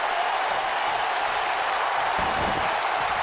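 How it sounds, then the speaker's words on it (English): Steady roar of an arena crowd cheering in the WWE 2K19 wrestling video game. The loud, continuous crowd wash runs through the whole stretch, with a slight low swell near the end. "trying to get cheers from this crowd"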